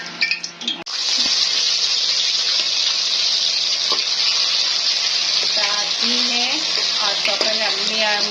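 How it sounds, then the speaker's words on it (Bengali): A paste of tomato, yogurt, onion, ginger and garlic hits hot cooking oil with a sudden loud, steady hiss that sizzles on, close and unbroken, with faint clinks mixed in. "গরম কুকিং অয়েলে পেস্ট আমি দিয়ে দিলাম"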